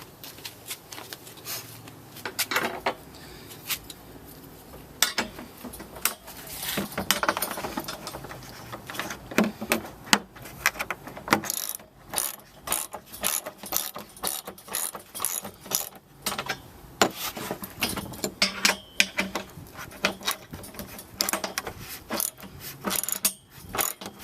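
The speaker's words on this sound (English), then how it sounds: "you're really going to need a ratchet with a 3/4 inch socket and a 3/4 inch wrench or another ratchet" A ratchet fitted with a 3/4 inch socket tightens nuts while assembling a Lifetime 80 gallon compost tumbler, giving rapid close clicking runs in repeated bursts with brief pauses and metallic rattles between.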